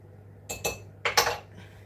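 A spoon stirs soup in a pot, giving a few light metallic clinks in two short clusters against a quiet kitchen background.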